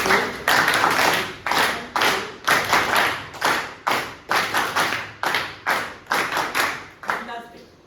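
An audience at a speech contest claps together in a rhythmic pattern, about a dozen loud group bursts in short repeating groups of two and three claps, close and filling the room.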